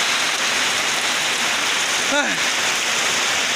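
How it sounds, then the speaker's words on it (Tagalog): Heavy rain pouring down outdoors, a loud, dense and steady hiss of drops on surfaces throughout, with a brief vocal exclamation partway through. "Ang lakas ng ulan."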